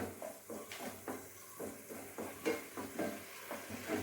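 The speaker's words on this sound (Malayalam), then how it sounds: "നമ്മുടെ ചെമ്മിനൊന്ന് ഇളക്കി കൊടുക്കാം" Prawns being stirred as they sizzle in a cooking pot in a village home kitchen: soft, rhythmic scraping strokes over a low, continuous sizzle, fairly quiet and close.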